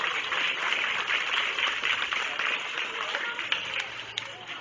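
Crowd applause at a county fair goat show ring, a dense wash of clapping from spectators that holds steady and tapers slightly, with a few louder claps near the end.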